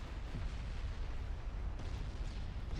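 Torpedo hits striking a battleship in the naval game Ultimate Admiral Dreadnoughts, a continuous deep, loud rumbling explosion that fills the whole moment without letting up.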